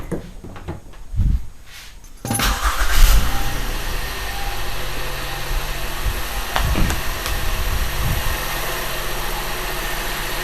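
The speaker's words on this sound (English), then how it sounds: "Let's see if the car starts up." Honda Pilot engine after a spark plug replacement: a short crank catches and the motor fires up, settling into a steady, close idle hum with a few faint clicks over the top.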